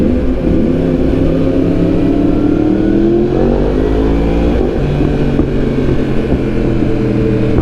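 A group of Yamaha R1 sport motorcycles, with a Kawasaki ZX6R among them, ride along Marcos Highway, their loud engines droning and revving steadily with rising and falling pitch sweeps as bikes pass close by.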